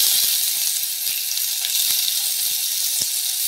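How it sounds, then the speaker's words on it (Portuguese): Chopped onion browning in a hot frying pan for homemade burgers, a steady close sizzle and hiss with small pops and crackles throughout, no voices. "então aqui eu vou dourar a cebola"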